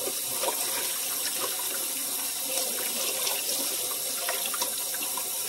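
Water pours steadily from a kitchen tap into the sink during dishwashing, a continuous close splashing hiss with faint clinks of dishes, no talking.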